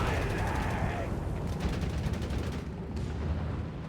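Sherman tanks bombarding in the World War II strategy game Company of Heroes 3: a dense wash of continuous battle noise, with rapid gunfire and booming shell impacts layered together throughout.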